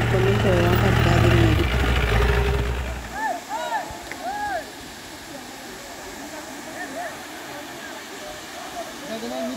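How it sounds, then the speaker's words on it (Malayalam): A waterfall in Kanthalloor near Munnar, reached by off-road jeep, gives a steady rushing roar after a loud engine rumble fades in the first few seconds; birds chirp over the continuous water noise. "കാന്തല്ലൂർ ടൗണിൽ നിന്ന് 5 കിലോമീറ്റർ ഓഫ് റോഡിൽ നമ്മളിപ്പോ വന്നിട്ടെത്തിയ വാട്ടർഫോൾസ് ആണിത്."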